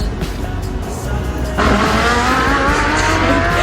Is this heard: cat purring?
no